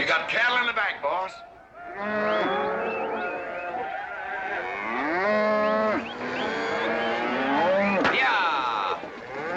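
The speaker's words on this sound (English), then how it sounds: "You got cattle in the back, boss." Cattle moo and bellow repeatedly from the back of a vehicle in a 1963 western, long loud calls overlapping one another, close and continuous over a low engine rumble.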